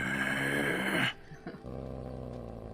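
A dog growls in the video game Dragon Age: Origins, a loud, sustained rumbling snarl that cuts off abruptly, leaving quieter low growling underneath.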